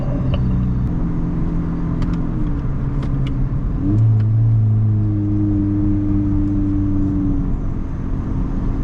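A 10th-generation Honda Civic 2.0L fitted with a PRL high-volume intake accelerates, its engine droning in a steady low rumble that rises in pitch partway through, close and continuous with no talk.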